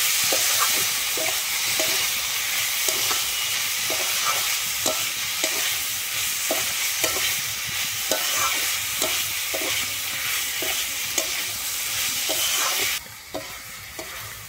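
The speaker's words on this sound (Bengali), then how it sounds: "আমি সেদ্ধ করা ডুমুরটাকে দিয়ে কিন্তু একটু ভালোভাবে কষিয়ে নিচ্ছি মশলার সঙ্গে।" Boiled figs stir-fried with spices in a pan, a steady sizzling hiss broken by regular scraping strokes of a spatula, close and loud and without talk, before the stirring stops near the end.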